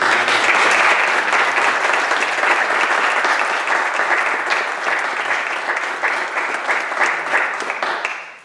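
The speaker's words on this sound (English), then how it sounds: "we should give John a round of applause for the work that he's done" Congregation applause at a church association's annual meeting, honoring a man for his work, with dense, loud clapping sustained throughout before a sharp fade at the very end.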